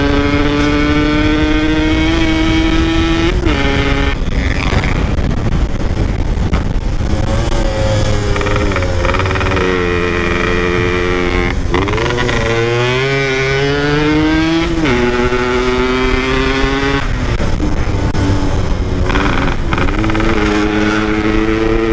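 A motorcycle rides over an unswept gravel road, its loud engine revving up and down through repeated throttle changes and gear shifts, heard up close and continuous without talk.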